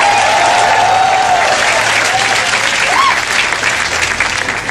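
Steady, loud audience applause fills the room at a stand-up comedy show, with crowd noise and a faint voice beneath it.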